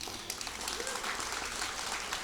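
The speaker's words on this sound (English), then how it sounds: "I should have said hold your applause" Audience in a theater applauding during a musical drama performance, a dense, even patter of many hands clapping at close range for a couple of seconds.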